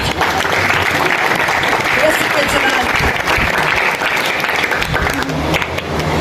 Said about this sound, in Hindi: जिनको नींद आती जोरदार ताली बजा दीजिए